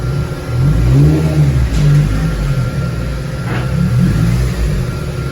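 A Honda Civic EP3 Type R with a K20 engine drives up onto a rolling road dyno, its engine revving and rising in pitch, steady and close throughout with no talk.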